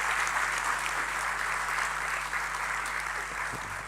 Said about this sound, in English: give a round of applause this time